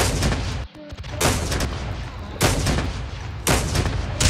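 Call of Duty gunfire in a game, with loud sustained bursts of shots filling most of the stretch and a brief lull partway through, close and dominant.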